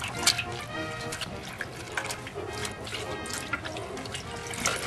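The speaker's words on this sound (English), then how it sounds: "Go to the next step where we rinse it." Laundry being rinsed by hand in a wash tub of water, with repeated sloshing, splashing and dripping in uneven bursts close by, while a voice talks intermittently underneath.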